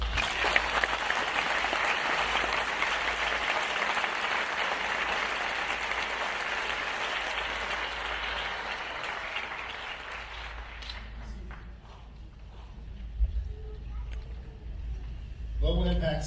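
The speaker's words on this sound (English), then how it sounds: "Ladies and gentlemen, please join me in a round of applause." A commencement audience claps in sustained, dense applause that swells and holds for about ten seconds before thinning out to scattered claps and room noise.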